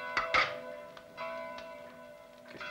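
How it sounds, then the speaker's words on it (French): Church bells in a village church ring by themselves at night, giving a faint, resonant clang with a lingering hum and a few duller knocks, heard without any talk. "Toutes les nuits maintenant, les cloches se mettent à sonner toutes seules."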